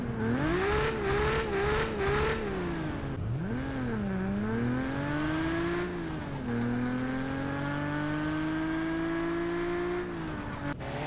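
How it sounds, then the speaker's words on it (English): Toyota Supra MK4 engine in Car Parking Multiplayer revs hard and loud throughout, rising and falling pitch with a dip near the middle, then holding a sustained climbing drone, alone without talk. "Toyota Supra MK4."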